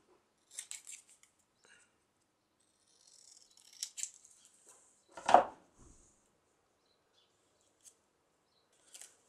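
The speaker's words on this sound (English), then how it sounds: "See the joy you can have with scissors?" Scissors snip scrapbook journal material during trimming: a few short, quiet crisp cuts spread out with pauses, then one louder close snip, and faint handling noises afterward.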